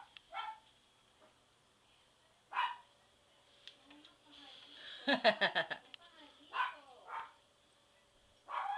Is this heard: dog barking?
yes